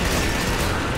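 A grenade blast in the video game Killing Floor, a loud, broad roaring burst of explosive noise that fills the short moment without any voice.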